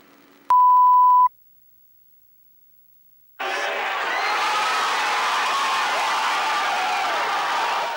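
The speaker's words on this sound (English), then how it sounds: "The cheering fans" Carolina Panthers football fans cheering in a stadium crowd, a broad sustained roar that swells after a short electronic beep and a moment of silence.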